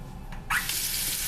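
Hotel bathroom sink faucet in a Sheraton Boston executive suite turning on, giving a sudden hiss of running water with strong pressure that continues steadily, fairly close.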